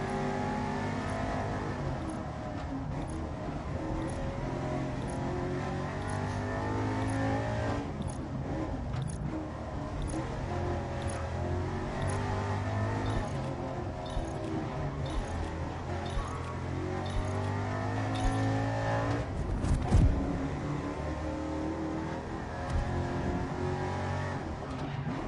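A Mach 1 Mustang in a racing video game, its engine revving hard and climbing through the gears with shifts near 7,000 RPM, a continuous loud drone with rising and falling pitch.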